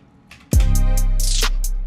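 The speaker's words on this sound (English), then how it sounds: "Let me listen to the drums." Drum track playing back in Presonus Studio One, a loud steady programmed beat that starts abruptly after a quiet moment, with a deep sustained bass underneath and regular crisp hi-hat or cymbal hits repeating.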